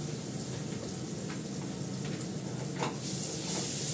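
A pan of potato and paneer kofta curry with turmeric and roasted spices sizzles steadily while a spoon stirs it, with faint scraping over the constant frying hiss.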